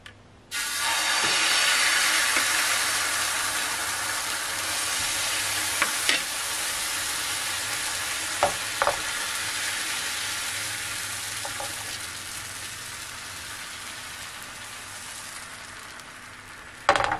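Pita frying in a pan with a few drops of oil gives a steady, close sizzle that runs for the whole stretch, with occasional small pops and crackles.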